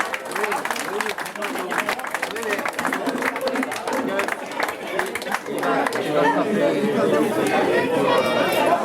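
An audience at an end-of-season dinner claps steadily and briskly throughout, mixed with lively crowd chatter and voices, the applause swelling louder toward the end.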